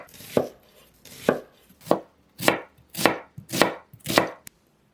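A knife chops a halved onion into small pieces on a cutting board: eight sharp, close strikes, spaced unevenly at first and then quicker and steady, with nothing else heard.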